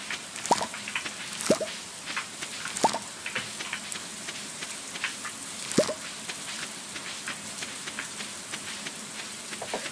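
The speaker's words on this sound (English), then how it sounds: "It's raining today." Rain falls steadily in Stardew Valley, a soft continuous patter with scattered louder drips and droplet plinks landing at irregular moments over ten seconds, with no voices.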